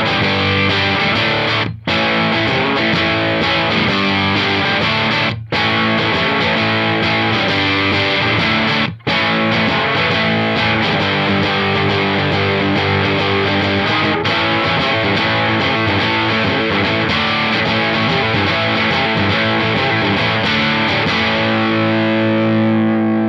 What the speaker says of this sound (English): So we might find this now sounds a little bit more like a classic distortion.